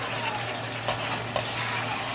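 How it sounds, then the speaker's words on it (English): Seasoned vegetables frying in a pan give off a loud, steady sizzle with a constant crackling hiss, broken by two brief scraping stirs. "So now I'm frying it"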